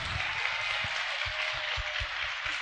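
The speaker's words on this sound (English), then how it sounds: "All right, everyone, let's give a round of applause to our Emmeline again." Audience applause at a neurodiversity panel session, a steady soft wash of many hands clapping under a constant background hiss, with a few low thumps.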